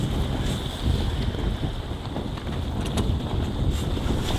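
A sailboat under way off the southwest coast of New Zealand's South Island, heard as steady, loud wind buffeting and rushing water against the hull throughout, with no voices.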